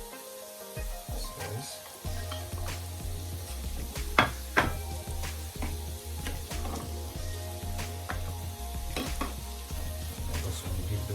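Okra sizzles steadily in a hot pan while a utensil stirs and scrapes it with irregular clinks and taps against the metal, the frying hiss constant underneath; a voice briefly speaks a single word.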